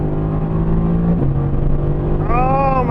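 A 2018 Mercedes-AMG GT C biturbo in race mode accelerates hard, a loud, close engine drone climbing steadily, dipping briefly at a gear shift and then rising again with a sharp upward sweep.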